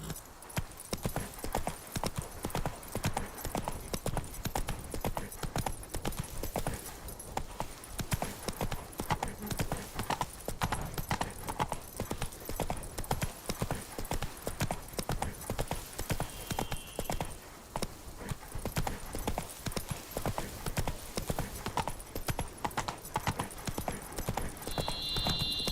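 Horse hooves gallop in The Witcher 3, a fast continuous drumming clip-clop kept up throughout at an even moderate loudness, with faint brief tones now and then.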